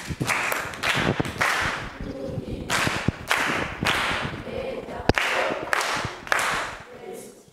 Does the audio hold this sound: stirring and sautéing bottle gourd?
no